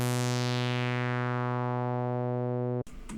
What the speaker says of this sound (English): It's this long synth.